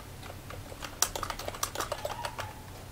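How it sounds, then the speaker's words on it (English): Fingers typing a short header on a computer keyboard, a quick run of close, crisp key clicks with uneven rhythm, alone with no talking. "I'll type in a header,"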